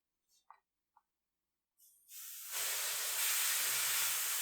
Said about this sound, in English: get your air out of here. Remove your valve core.